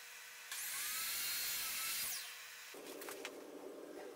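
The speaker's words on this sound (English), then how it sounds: "he gets to cut the solid oak face trim" A saw cuts through solid oak face trim for a bookshelf, giving one short, close, high-pitched whine that rises and then spins down, followed by quieter workshop noise.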